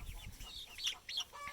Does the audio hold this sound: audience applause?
no